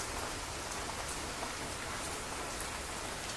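Heavy morning rain in a village pours down in a steady, dense hiss of drops striking surfaces, loud and unbroken from start to finish with no voices.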